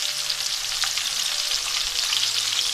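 Steady, hissing sizzle of onions and garlic frying in hot oil, close and continuous, with faint occasional crackles.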